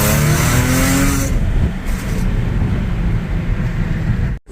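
An Audi A6 3.0T accelerating hard, its exhaust roaring loud and close in a steady rising drone that briefly dips, then cuts off abruptly at the end, with no talk over it.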